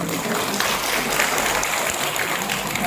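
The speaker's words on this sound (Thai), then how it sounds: "ขอให้พวกเราได้ปรบมือให้กับพอเชีย" Steady applause from an audience at a training seminar for elderly people, a dense even patter of clapping that fills the whole stretch at moderate loudness.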